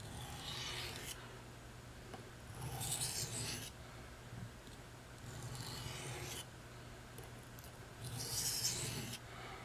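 A Buck 389 knife drawn across a sharpener in alternating light strokes, producing soft, evenly spaced raspy scrapes with brief pauses between them, close and fairly quiet, over a low steady hum.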